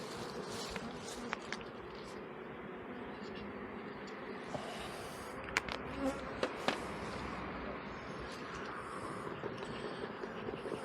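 Honeybees swarm and drone over an opened beehive during a spring inspection near a feeder, a dense, steady close-up buzz running throughout, with faint murmured voices and a few sharp clicks of handling.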